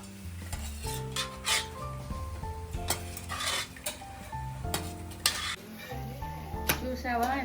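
Mutton roasting in a pan, stirred with a metal spoon: a quiet sizzle under repeated scraping and clinking strokes of utensil against the pan, with some music playing in the background.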